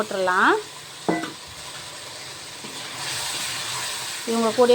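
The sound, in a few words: pudina rice masala simmering and sizzling in pan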